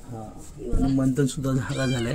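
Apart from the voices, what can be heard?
stray cat meowing at night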